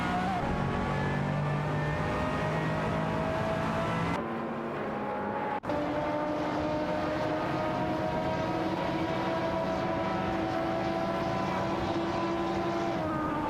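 Race cars in an AI racing video game, including a Ferrari and a Porsche 718 Cayman, with a continuous layered drone of engines holding steady pitches and shifting tones, with no talk over it.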